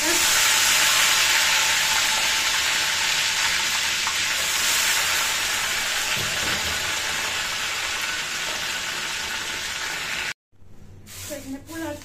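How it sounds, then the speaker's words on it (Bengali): Chicken fries in hot oil with a loud, steady crackling sizzle close by. It cuts off abruptly near the end, leaving quieter clatter. "আর এখন এই তেলেই আমি চিকেনগুলা ফ্রাই করে ফেলবো।"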